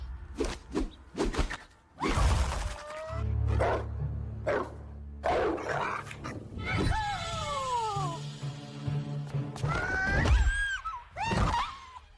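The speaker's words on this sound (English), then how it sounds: "On the way, CJ7 manages to defeat a vicious dog." A vicious dog barks in a series of sharp, loud barks and yips, mixed with thuds and scuffling, with other sounds around it and no speech.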